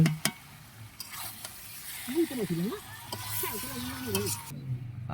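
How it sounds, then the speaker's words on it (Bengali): Duck meat stir-fried with spices makes a moderate sizzle with a few scraping stirs, mostly under a speaking voice. "মাংসটা ভালো মতো কষানো হচ্ছে"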